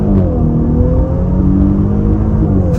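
A 2023 Audi SQ5 launching hard from a standstill, its engine roaring loud and steady in a sustained close-up drone with rising pitch under full throttle.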